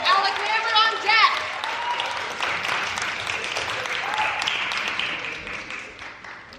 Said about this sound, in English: let's keep that applause going for Annie